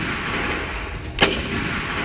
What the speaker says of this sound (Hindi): बंदूक का बोल्ट खींचेगा, निशाना लगेगा और सीधा फायर